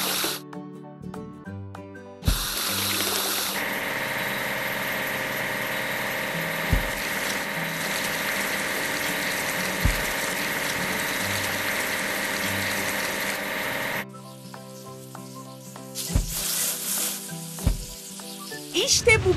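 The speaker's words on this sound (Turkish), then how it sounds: "Demiryolu ekskavatörünü yıkamamız gerek." Water spraying steadily onto a railway excavator in a kids' train video game, a continuous hissing wash starting after a couple of seconds and cutting off later, with game music and effects around it.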